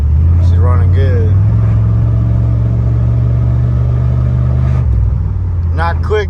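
A 1995 Chevy 454 dually pickup truck's engine idles with a steady, heavy low rumble throughout, close by, while someone talks over it at the start and end.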